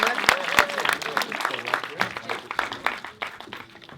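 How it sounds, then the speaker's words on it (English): An audience at a film press conference applauds, with a dense patter of claps that starts strong and slowly thins out. Voices talk over the clapping throughout. "let's give them a huge round of applause"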